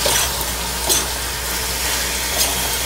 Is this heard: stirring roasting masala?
yes